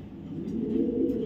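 A young racing pigeon from a club loft coos in a low, continuous rumble, close by and swelling slightly toward the end, with no voices.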